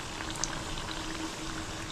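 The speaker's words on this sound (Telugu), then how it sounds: "ఇటు అరటికాయ కూడా చక్కగా ఫ్రై అయిపోయింది" Quiet, steady bubbling and sizzling of raw banana fritters (bajji) frying in hot oil, a soft continuous crackle with small pops and no voices.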